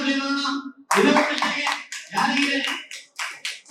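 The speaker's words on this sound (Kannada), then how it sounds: "ಚಪ್ಪಾಳೆ ಕೊಡ್ಲಿ ನೋಡೋಣ" A crowd at a lucky draw event claps in short bursts, interspersed with brief gaps; a voice can be heard speaking at the start before the clapping.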